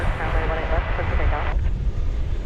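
Airplane engines at DFW Airport, a broad steady roar with rumbling low end, heard from a distance with a voice talking over it.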